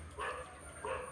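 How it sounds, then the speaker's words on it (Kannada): A dog gives two short, faint barks, spaced apart, heard at a distance over quiet background hum. "ನಾಯಿ ಬೊಗಳ್ತಾಯಿದೆ"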